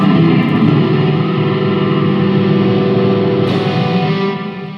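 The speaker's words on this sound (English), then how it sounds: "nothing like a ton of reverb on very heavily distorted" A heavily distorted electric guitar chord rings out and sustains, washed in thick reverb, slowly fading at the end.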